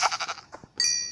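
A sheep in the video game Survivalcraft gives a short, clear bleat, a brief wavering call following a few faint game noises, with no talk over it.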